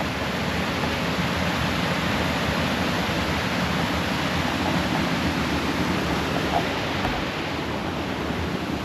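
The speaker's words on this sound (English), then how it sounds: "Here's another little waterfall down here." A small waterfall beside a hiking trail gives off a continuous broadband rushing roar, steady and fairly loud throughout, with no voices over it.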